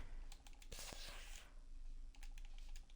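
Quiet keystrokes on a computer keyboard as a name is entered, a few quick clustered taps at first, then a faster burst of light clicks near the end, with no talking.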